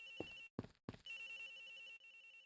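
Telephone ringing in the Ace Attorney Investigations game, with three short separate ring bursts followed by a sustained, steady electronic tone, clear and alone with no voices.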